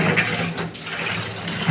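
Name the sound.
water running while washing prawns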